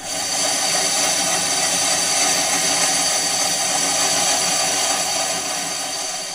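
A metal lathe takes rough and finishing cuts on a backplate for a Sanou K11-125 three-jaw self-centering chuck, giving a steady, loud, broadband machining roar that holds unbroken for the whole stretch.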